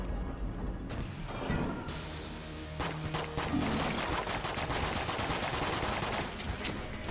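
Rapid gunfire in the video game Enter the Gungeon, a dense stream of repeated shots after a brief start, loud and continuous with little pause.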